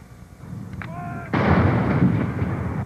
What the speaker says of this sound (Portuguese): Uma salva de tiros no Hyde Park de Londres marcou a data